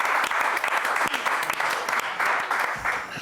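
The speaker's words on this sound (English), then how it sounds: "big round of applause to Gavin?" A studio audience at a live football fan chat show gives a loud, dense round of applause that runs continuously for a few seconds.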